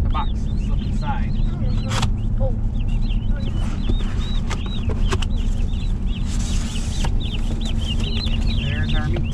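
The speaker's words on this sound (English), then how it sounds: "There's our meat turkeys." Many turkey poults chirp and peep in a dense, continuous chorus inside a box, close by, with a low steady rumble underneath and occasional voices.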